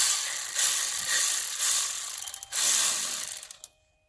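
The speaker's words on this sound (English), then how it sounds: "These bolts are to be torqued to 12 Newton meters." Ratchet clicking as oil cooler bolts are torqued on a 2014 Dodge Grand Caravan 3.6 L, a close, dense run of rapid pawl clicks in two bursts, speeding up toward the end before stopping.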